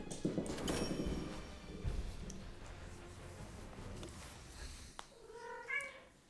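A cat meows a few times near the end over a busy game soundscape in the shooter Enlisted, with rumbling noise and faint voices beforehand.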